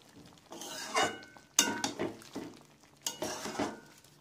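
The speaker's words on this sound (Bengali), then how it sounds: "আমি একবার চাপাটা খুলে নিলাম, নেড়ে দেবো যাতে না মাংসটা নিচে ধরে নেয়।" A spoon stirs spicy chilli chicken in a pot with the lid just lifted, giving a few scraping, clinking strokes against the metal with short pauses between them, close and fairly soft.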